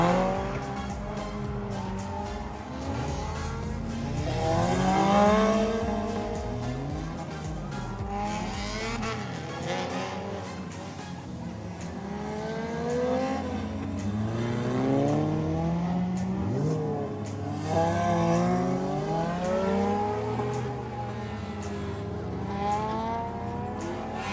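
Race cars doing figure 8 racing after the main races at Kevin Harvick Kern Raceway, with engines repeatedly revving up and down and tires squealing as they pass and corner, heard from a moderate distance and swelling and fading throughout.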